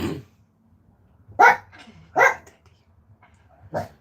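A dog gives a short yelp, then three loud separate barks spaced about a second apart, close by in a quiet indoor room.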